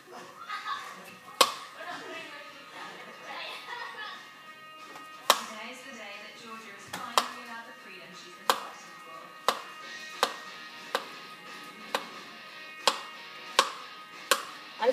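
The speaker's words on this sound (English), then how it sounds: "Now I'm chopping up some banana." A knife chops banana against a board in steady, evenly spaced knocks, quickening slightly later, with a soft background hiss and faint voices.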